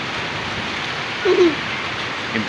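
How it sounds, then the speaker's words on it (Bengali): Steady rain falls during a thunderstorm, a continuous broadband hiss of drops on surfaces throughout, with a brief bird-like call or short voice rising above it midway. "গরমের পরে এই ধরনের একটা বৃষ্টি ভালোই লাগে"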